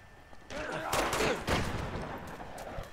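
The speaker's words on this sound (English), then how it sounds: "Where are they shooting us from?" Enemy gunfire in Uncharted 2, a rapid rattling volley of distant shots and ricochets that crackle for a couple of seconds at moderate loudness, with faint voices mixed underneath.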